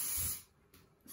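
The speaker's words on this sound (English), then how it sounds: "And get the spray." A short hissing spritz from a spray bottle used while styling hair into curls, followed by a quieter pause and a second brief spray near the end.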